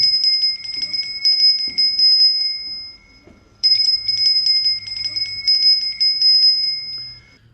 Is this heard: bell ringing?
yes